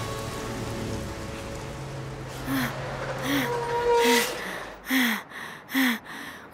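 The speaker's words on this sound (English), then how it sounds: "Thankfully, the rain was starting to let up." Rain falls in a cartoon as the shower eases, a soft patter fading behind a few short voiced breaths and gasps that pop up toward the end.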